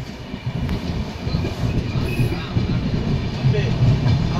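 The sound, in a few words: train running, arriving at Asansol Junction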